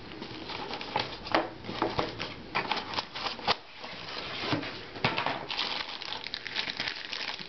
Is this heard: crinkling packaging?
yes